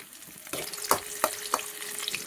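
Dried red chillies frying in a pan on low flame with garlic and small onions for a chutney, a soft sizzle broken by a few sharp crackles and light scraping, close and without speech.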